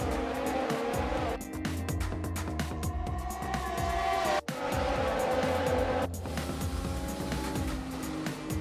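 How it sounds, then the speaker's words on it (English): A Formula 1 race car in the F1 2020 video game on the Japan circuit roars continuously at high revs, with quick gear shifts and a brief squeal of tires through the corners. "A sleek looking race car, this one."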